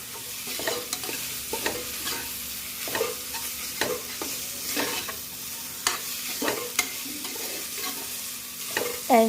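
Masala stirred in a hot pan, with a continuous fry and sizzle broken by regular scraping spoon strokes every second or so, close and moderately loud.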